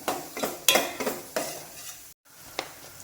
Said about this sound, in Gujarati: 1 મિનિટ સુધી સાતળશું મસાલાને.